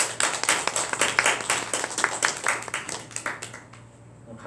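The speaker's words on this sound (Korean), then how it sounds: "우리 환영하는 마음으로 우리 박수 한번 하겠습니다" A church congregation claps together in welcome during a Sunday morning service, a lively burst of many hands that thins out and fades to near silence at the end.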